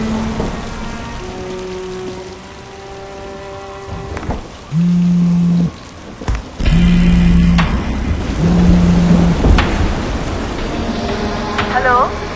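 Steady rain pours at night through an eerie ghost-story advertisement, a constant hiss with several sustained low droning tones and sharp thuds cutting in over it.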